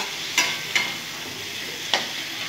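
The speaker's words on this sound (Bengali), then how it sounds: "খুব সুন্দর করে আমি কষিয়ে নেব" Goat liver and potatoes being sautéed with spices in a wok, a continuous sizzle broken by three sharp scraping clatters of a spatula, close and fairly loud.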